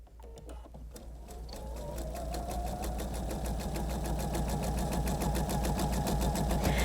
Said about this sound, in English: I'm going to start sewing at the point and sew to the other point